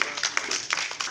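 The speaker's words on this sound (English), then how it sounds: "Very good. Clap for him." Scattered, uneven hand claps ring out from a small group, several people clapping at once in a quick, loose rhythm.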